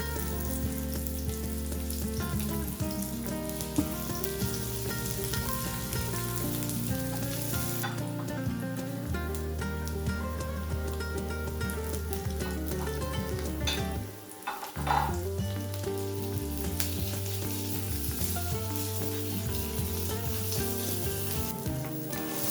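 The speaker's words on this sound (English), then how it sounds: "Then add your garlic and ginger paste. Saute until they are brown." Garlic and ginger paste sizzling in a pan over softened onions for a carrot ginger soup, a continuous close frying crackle with occasional stirring scrapes and a brief dip midway.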